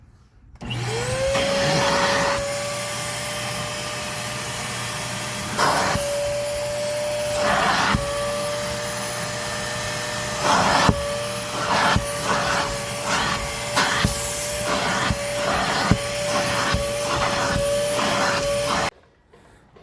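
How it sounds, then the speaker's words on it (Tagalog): A vacuum cleaner runs steadily with a high whine while cleaning the interior of a 2009 Toyota Hilux D4D 4x2, its drone punctuated by repeated bumps and rattles as the nozzle knocks against surfaces, close by. "Ito na vacuum na."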